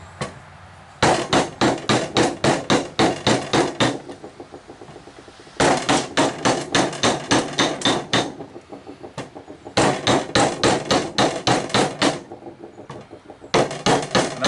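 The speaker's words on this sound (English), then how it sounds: "They're not focused hitting the hammer here." Repeated sharp hammer blows on a chisel cutting into wood while building a porch swing, delivered in fast rhythmic bursts of ten or so strikes with short pauses between, close and loud.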